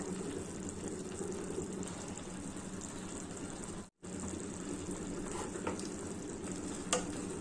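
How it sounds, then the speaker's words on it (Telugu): Chillies and coconut sizzle steadily in hot oil in a pan for ridge gourd peel chutney, a continuous frying hiss with light stirring scrapes and a brief break midway. "ఇప్పుడు చెక్కు చట్నీకి వేయించుకుంటామండి"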